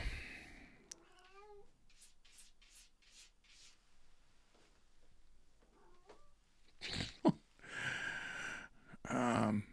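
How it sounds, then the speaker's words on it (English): Cats yowling and meowing at a moderate distance, then sudden loud screeches and hisses as the fight flares up in two bursts. "we have fighting animals over here"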